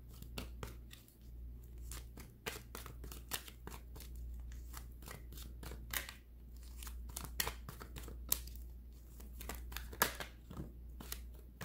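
A tarot deck being shuffled by hand, with irregular bursts of crisp card riffles and slaps, close and quiet, continuing with short pauses across the whole stretch.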